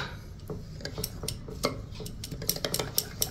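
A spoon stirs walnut raita with cumin, cardamom powder and powdered sugar in a bowl, giving repeated close clinks and scrapes at an uneven rhythm.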